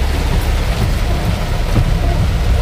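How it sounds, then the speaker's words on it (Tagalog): Heavy rain pours down in a steady, loud roar during the first rains of May, a dense continuous wash of drops close by with no break. "Grabe, lakas ng ulan, oh."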